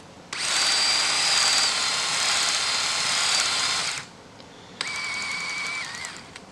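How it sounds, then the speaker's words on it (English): A diamond valve guide hone spins inside a cylinder head's valve guide, giving a loud, steady high whine for about four seconds, a brief pause, then a second shorter run at a slightly different pitch. "This is a diamond valve guide hone. Just put it in, turn up the pressure a little bit."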